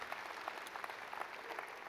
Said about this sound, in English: Let's give him a round of applause for what he's done in and through the series.